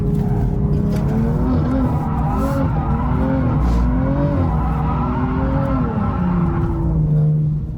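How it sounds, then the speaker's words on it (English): A car drifting in second gear, engine droning loud and close with rising and falling revs, tires squealing under steady driving noise. "Gonna drive in second gear, give it a little quick."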